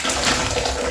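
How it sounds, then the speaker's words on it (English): Hot water pours steadily from a leaking kettle into a container, a loud, continuous splashing rush with no talking. "I'm going to pour some hot water in here"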